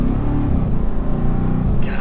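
A 2022 Land Rover Defender 110 Carpathian with a supercharged V8 revs and accelerates, its deep engine rumble steady and loud throughout with a shift near the end.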